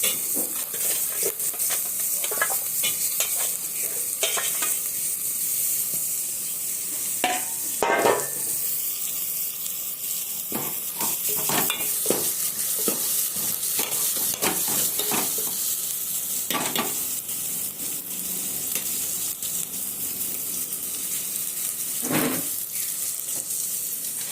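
Dried vegetable pieces sizzling in a little oil in a pan after turmeric is added, a continuous close hiss of frying with occasional scraping stirs and clicks over the top.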